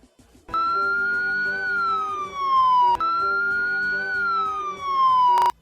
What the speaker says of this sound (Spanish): ese sonido significa que es para las ambulancias cuando tienen una trayectoria larga, larga, larga y no se van a detener